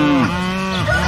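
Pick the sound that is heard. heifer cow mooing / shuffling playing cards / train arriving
heifer cow mooing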